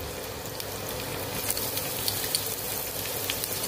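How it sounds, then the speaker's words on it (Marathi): Garlic, ginger and green chili crackle and sizzle in hot oil, a steady close hiss with small scattered pops throughout. "तेल आपलं गरम झालेलं आहे। आपण आता ह्याच्यामध्ये लसूण घालून घेऊ, मग आलं"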